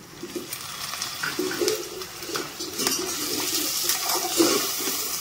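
Bowl-rinsing water poured into a hot pan of frying onion, tomato and ginger-garlic paste, a steady rushing hiss and sizzle with gurgling, close and continuous, no talking.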